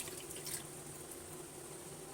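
Drumstick cooking water poured into a curry, a soft, faint, steady liquid pouring hiss heard alone for about two seconds.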